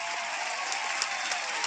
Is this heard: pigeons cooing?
no